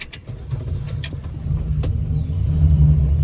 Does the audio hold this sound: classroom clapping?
no